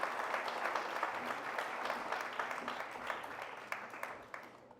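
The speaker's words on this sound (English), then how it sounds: "So clap for yourselves." A town hall audience in Chelsea breaks into sustained applause, a full, even wash of clapping that slowly thins out toward the end.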